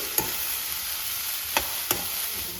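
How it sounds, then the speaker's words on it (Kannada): Tomatoes and green chillies frying in a pan give a steady, soft sizzle, broken by a few brief clicks of a utensil against the pan. "ಟೊಮ್ಯಾಟೊ ಹಾಗೂ ಗ್ರೀನ್ ಚಿಲ್ಲೀಸನ್ನು ಆ್ಯಡ್ ಮಾಡಿಕೊಂಡು ಒಂದು 2 ರಿಂದ 3 ನಿಮಿಷ ಅದನ್ನು ಫ್ರೈ ಮಾಡ್ಕೊಳ್ಳಿ."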